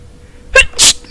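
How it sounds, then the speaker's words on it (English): A single close, loud sneeze, a quick sharp intake followed by a hissing burst, alone in a quiet room. "Oh, no, I don't want to sneeze."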